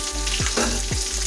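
Chopped onions hit a hot kadai of oil for a chicken bhuna khichuri, setting off a loud, steady sizzle and frying hiss with a few scraping stirs close by.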